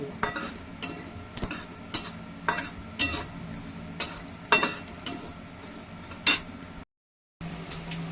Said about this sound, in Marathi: हे बघा आपण खसखस हलक्या आचवर भाजून घेऊ